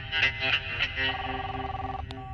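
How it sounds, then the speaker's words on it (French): A cartoon telephone rings with a steady electronic trill, close and moderately loud over a soft musical background, ending in a brief click. "Le téléphone à papa."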